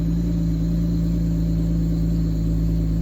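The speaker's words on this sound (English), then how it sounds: "when I turn the car on, okay, there we go" A car engine idling steadily with a deep, even rumble and low hum throughout, close and constant.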